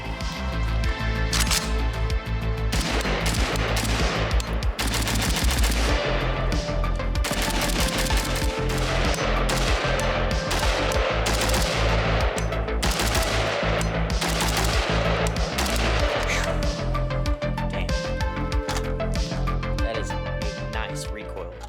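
An FB Radom Beryl 5.56 NATO AK-pattern rifle empties a full magazine in rapid, loud, close repeated shots that run nearly continuously for around twenty seconds, with brief pauses between strings.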